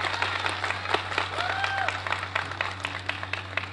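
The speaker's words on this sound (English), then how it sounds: "Yes, big round of applause." An audience applauds at a senator's event kicking off domestic violence awareness month. Steady, dense clapping continues for several seconds over a constant low hum, with faint voices and whistles.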